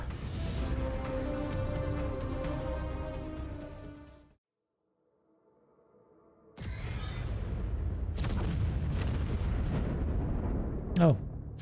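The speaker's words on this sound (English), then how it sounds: "Oh, it's artillery strikes." Heavy artillery strikes rumble and boom in a MechWarrior game as a Ghost Bear pilot moves out, dense low blasts continuing before a brief quiet gap, then fresh loud impacts and a sharp whining shot near the end.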